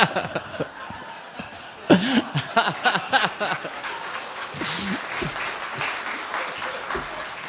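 An audience at a lecture on the Supreme Court and faith breaks into clapping and chuckles, with a voice speaking over the start before the applause settles into a steady wash.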